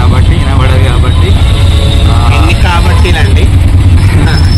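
Auto-rickshaw ride through Hyderabad road traffic: a loud, steady engine rumble fills the whole stretch, with horn tones and passing vehicles mixed in and voices murmuring faintly underneath.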